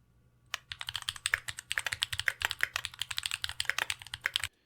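A mechanical keyboard with Baby Kangaroo switches typed in a quick, uneven run of crisp clacks, close and clear for about four seconds with no talking.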